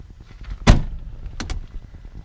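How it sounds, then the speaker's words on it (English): A 1960 Plymouth Fury window rolls up and down amid low background noise and knocks, with a sharp thump partway through and two quick squeaky scrapes shortly after. "going to show you that window rolling up and down"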